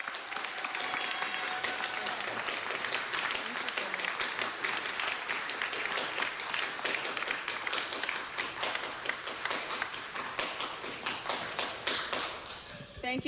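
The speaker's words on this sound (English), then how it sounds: "Please join me in giving Monica Alcaraz a huge round of applause." An audience at a city council meeting claps at length, a dense patter of many hands holding steady and fairly loud, with voices murmuring through it and fading near the end.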